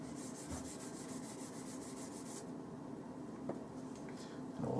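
A knifemaking tube gets its outside scored with a strip of 80 grit abranet, making a quiet, steady rubbing rasp close by. Rhythmic strokes are clearest at first, then the scraping continues more faintly.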